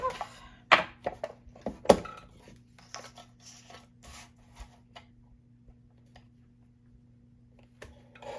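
Scissors snipping through card paper while trimming a Christmas card, a quick cluster of sharp cuts up front, then sparser soft snips and rustles, close and alone.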